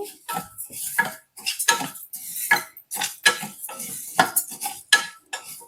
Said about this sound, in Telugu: చిన్న కుక్కర్ పెట్టుకోవాలి పెసరపప్పుని చిన్న కప్పుతో తీసుకుంటున్నాను పెసరపప్పుని వేయించుకోవాలి